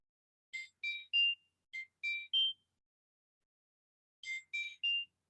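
A phone rings during an online class at home: bright electronic tones in two quick bursts of three, a pause, then another triple, clear and fairly close with no talking over them.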